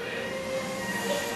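A train emerges from a tunnel, producing a steady, close rumble and rolling roar with faint metallic tonal whine, continuous and unbroken.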